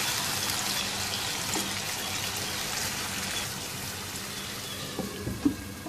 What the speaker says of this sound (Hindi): अब इसमें शामिल करेंगे 1/4 प्याली पानी